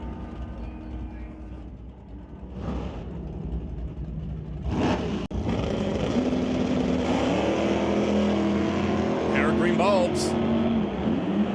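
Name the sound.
drag racing cars, a Nova and a Dart, launching down the strip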